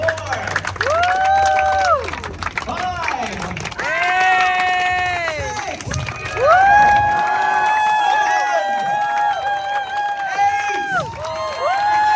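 An audience of adults and children at a family festival improv show claps and cheers in loud bursts, with voices shouting over the applause and a few swelling waves of cheering.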